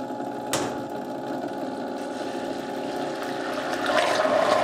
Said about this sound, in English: I'm gonna add my sodium alginate to it, blend it